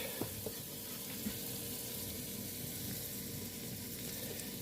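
Flour and butter whisked together in a hot pan for a roux, a steady soft sizzle and scraping hiss running evenly throughout with faint clinks of the whisk, no talking.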